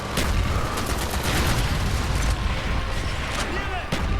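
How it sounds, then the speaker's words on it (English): Mortar fire and other weapons in the shooter game Call of Duty: Black Ops make a loud, continuous wall of blasts and rattling shots, with repeated sharp reports standing out in the din. "Firing mortar!"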